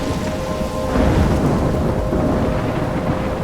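A thunderstorm in the video game Life is Strange roars with heavy, steady rain and deep rumbling thunder, loud and dense throughout with no voices.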